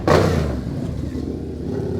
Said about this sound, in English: Oh, look, the bikes are leaving.